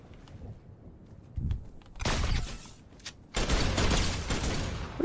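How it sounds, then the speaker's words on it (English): Gunfire in a shooter video game arrives as two loud, dense bursts of rapid shots, separated by a brief pause and preceded by faint scattered pops. "he definitely hears me shooting at him"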